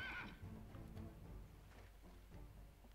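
Horse neighing in the strategy video game Battle Realms, one short whinny at the start, then soft clip-clop and faint game sounds underneath, quiet and distant, with no talking.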